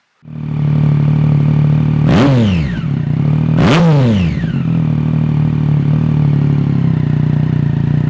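A motorcycle engine with a Yoshimura exhaust idles loudly with a rough, throaty note, revved sharply twice before settling back into a steady rumble.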